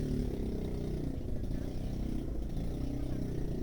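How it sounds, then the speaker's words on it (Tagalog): Motorcycles and cars move through busy market-street traffic, a steady low engine rumble with some clatter running throughout, fairly close and continuous. "Medyo salubong ang mga motor dito."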